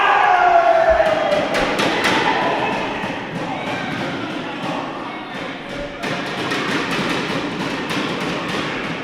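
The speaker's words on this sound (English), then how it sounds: "Listen at the fans today." A wrestling crowd at an indie tournament roars and cheers continuously, loud and dense, with scattered thumps and slaps from the ring cutting through.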